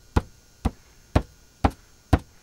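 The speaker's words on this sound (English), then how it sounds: "You ever have a canvas that sounds like this?" A loose 11 by 14 inch painting canvas being tapped, giving five hollow, drumlike knocks at a steady half-second pace. The knocks are close and fairly loud, with no voices.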